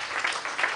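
Brief burst of comedy club audience applause in La Réunion, a crowd clapping steadily for a moment.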